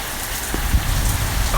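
Real rain falls steadily outdoors, a dense, even patter on surfaces close by, with no one speaking.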